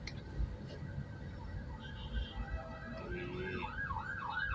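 An ambulance siren wails on EDSA Malibay in Pasay, faint at first and then rising into a clear, repeating up-and-down yelp over steady traffic rumble.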